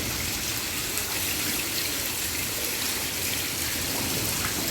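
Heavy rain pours steadily in Bengaluru, a dense, even hiss with no pauses or voices.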